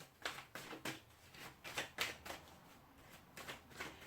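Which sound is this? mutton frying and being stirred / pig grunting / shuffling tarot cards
shuffling tarot cards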